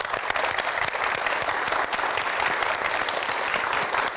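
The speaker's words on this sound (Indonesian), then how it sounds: "Sama-sama kita berikan tepuk tangan." An audience applauds steadily for a guest on a live studio show, a dense, continuous clapping that stays loud and even from start to finish, with no talk over it.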